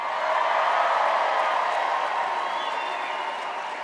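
A dinner crowd at a Colorado Democrats event applauds Bernie Sanders and Hillary Clinton with steady, dense clapping that fades slightly toward the end, no distinct voices.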